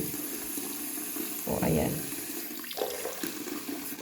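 Water is poured into a dog's drinking bowl in a short, splashy burst, followed by a fainter trickle, with brief speech and steady background noise around it.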